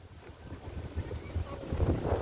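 Gusty wind buffets the microphone in uneven rumbling bursts, swelling louder toward the end, with no clear speech.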